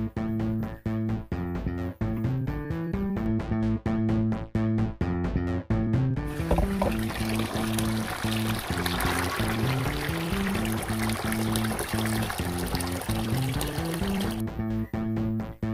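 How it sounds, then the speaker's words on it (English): Water pouring steadily into a bucket, a continuous splashing trickle that runs throughout, heard under a repeating musical backing with no talk. "Now we can start filling this bucket with full of water."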